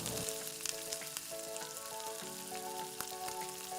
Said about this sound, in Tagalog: Pwede na nating ilagay ang remaining na malalaking hiwa ng onions na ginawa po natin kanina. Tapos haluin lang po natin ito ng maigi.